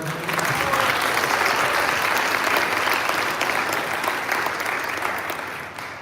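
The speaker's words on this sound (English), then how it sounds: "Let's get one more round of applause for our folks." A large audience at a high school commencement for Creative Technologies Academy claps steadily, the dense applause holding strong before slowly fading toward the end.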